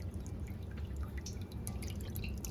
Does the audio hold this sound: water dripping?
yes